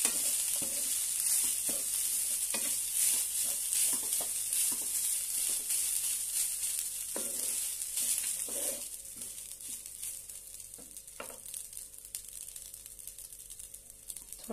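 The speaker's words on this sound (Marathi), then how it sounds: "आता यामध्ये आपण भात घालूया आणि छानपैकी परतून घेऊया।" Cooked rice being stir-fried in a pan for raw mango rice, with a steady close sizzle and frying hiss broken by repeated scraping stirs throughout, no talking.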